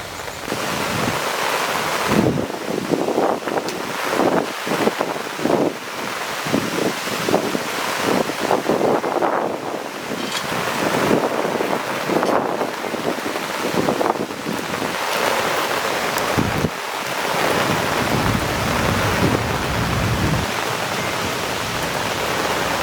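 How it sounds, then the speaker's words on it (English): Strong gusts of wind roar and buffet over someone sheltering under an umbrella, with rain starting to fall. The broad, rushing noise stays loud and close throughout, swelling and easing in uneven surges, and no one speaks. "That wind just hit all of a sudden."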